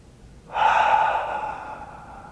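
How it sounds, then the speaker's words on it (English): A single long, deep breath is taken during a qigong session: a steady, close, airy rush that swells quickly, then slowly fades over about two seconds, with no talking. "Shift our breathing. Long, slow, deep breaths."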